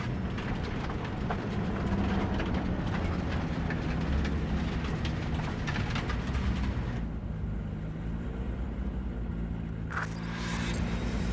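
A train passes in the video game Cyberpunk 2077, a loud continuous rumble and clatter that drops sharply partway through before a brief burst near the end.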